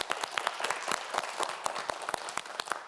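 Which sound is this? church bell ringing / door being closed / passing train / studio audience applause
studio audience applause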